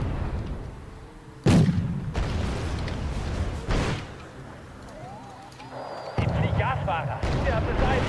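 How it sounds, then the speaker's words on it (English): Wargame AirLand Battle artillery strikes land as sharp booming blasts about every couple of seconds. Each impact rings out against a quieter rumbling battlefield, with a voice talking between them. "A lot of people just move when the artillery fire comes in"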